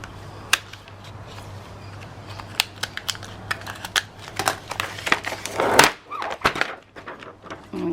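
Scissors snip through the edge of a laminated photo journal page in a string of crisp, close cuts that grow louder and crunchier toward the end.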